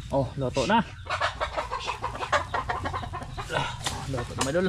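Chickens clucking outdoors at a countryside spot where chicken is being roasted, repeated short clucks heard close by under ongoing conversation between men.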